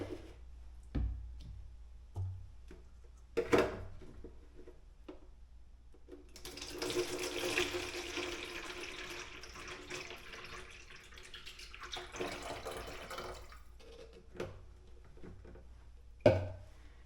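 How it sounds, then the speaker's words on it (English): Water pours steadily into a container for several seconds, a mid-level rushing stream, framed by scattered clicks and knocks before and after. "Pour the rest in the jug."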